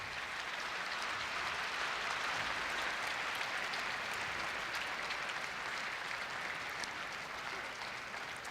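A large crowd at a Korea University ceremony breaks into sustained, loud applause that holds steady for the whole stretch, dense and even with no pauses.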